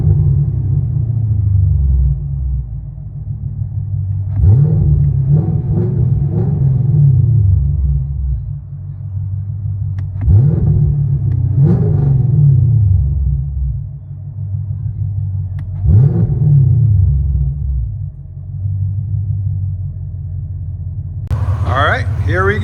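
E85-tuned Chevy Camaro with a 6.2L LT1 V8, headers and OBX mufflers, heard from inside the cabin as a deep, loud rumble with several revving surges, while people talk over it.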